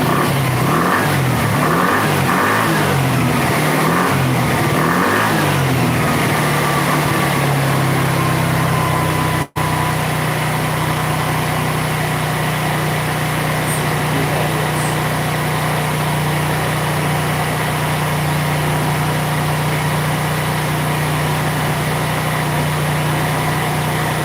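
A Buddy 125cc scooter engine runs loud and close with an uneven, lumpy idle, then drops to a steady drone after a brief cutout, with no voices.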